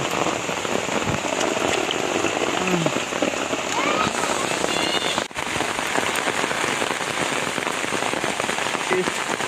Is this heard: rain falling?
yes